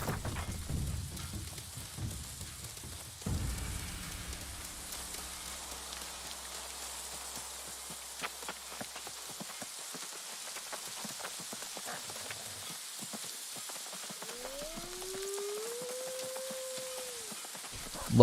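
Steady rainfall in the New World video game, a soft continuous patter with scattered drops, joined near the end by a rising, wavering wolf howl.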